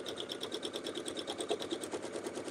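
A sewing machine stitches a clamshell quilt piece, its needle running in a fast, steady rhythmic chatter of even pulses, close and quiet, with no talking.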